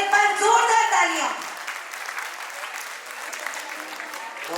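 Loud applause from an audience at a Women's Day Special celebration, greeting a newly appointed president: a voice trails off at the start, then steady, strong clapping continues evenly to the end.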